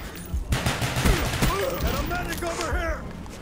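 Gunfire in a video game wager match, with shotguns in play, comes as several sharp, rapid shots and bursts close by, mixed with in-game effects.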